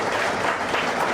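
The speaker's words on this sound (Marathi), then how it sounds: "जोरदार टाळ्या वाजवून" Audience at an awards ceremony applauding loudly, a dense continuous clapping that fills the hall without a break.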